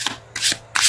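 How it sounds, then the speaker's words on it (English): Tarot cards slide out of a deck in three quick, close papery swishes and rubs, each separated by a short pause. "Let's pull a challenge card."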